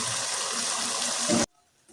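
Chicken curry poured from a pot onto rice for a biryani, a steady wet gushing pour lasting over a second, ending abruptly and followed by near silence.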